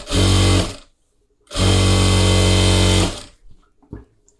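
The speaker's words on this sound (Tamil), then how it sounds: "இதில் 1 இன்ச்சு கனெக்ட் பண்ணி அதை தையல் போட்டுக்கோங்க." Sewing machine stitching a blouse collar: two loud, close bursts of steady motor whir, one short and one longer, separated by a pause, followed by faint handling clicks.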